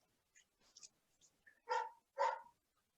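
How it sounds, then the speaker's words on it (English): Two sheepdogs bark nearby indoors, with two clear separate barks after a few soft yips and whimpers, and near silence in between. "the two sheepdogs who are sitting behind me"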